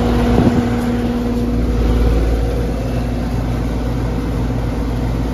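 A 1997 Carrier TECH2000SS heat pump with a burnt-out fan motor runs steadily after startup, a loud continuous mechanical hum with a strong low drone and a constant tone, unchanging from start to end.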